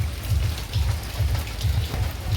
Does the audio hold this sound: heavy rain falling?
yes